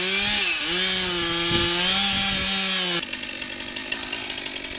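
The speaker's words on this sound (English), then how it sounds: "Finally getting the tree cut down!" A chainsaw cutting down a huge tree whines at a high, steady revving pitch for a few seconds, then drops into a rougher, choppier cutting noise. The sound is loud and close, with no talk over it.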